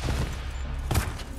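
A single shotgun blast in Resident Evil 4 Remake, a heavy boom near the middle set against a dense, noisy game background.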